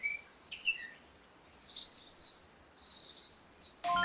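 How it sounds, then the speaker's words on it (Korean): Birds singing in the shaded garden of a winery resort in Tuscany, several close bright chirps and trills in quick overlapping phrases over a quiet background. "커다란 나무가 만들어준 그늘 아래에 앉아 있으면 새소리만 들리는데"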